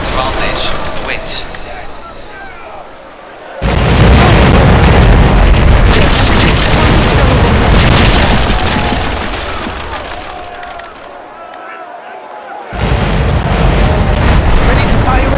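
Ship cannons fire in the naval battle game Commander: Conquest of the Americas, loud deep booming broadsides that swell into sustained roaring bursts, ease off, then erupt again abruptly.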